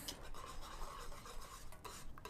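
A whisk stirs tomato soup in a pot to break up lumps, giving a steady scraping, clinking churn against the metal for a couple of seconds with no voices.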